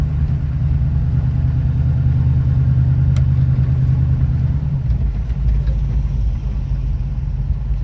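A 1938 Pontiac engine idles high while cold. The low rumble is steady and close, then drops to a deeper, rougher tone partway through.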